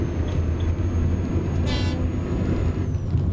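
Short blast of a truck horn in a Renault T truck driving game with a tipper trailer, one brief toot over a steady engine drone.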